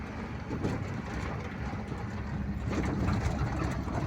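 A vehicle engine drones under load while pulling a trailer of hay bales across a stubble field, a steady low rumble that swells slightly toward the end, close and continuous with no talking.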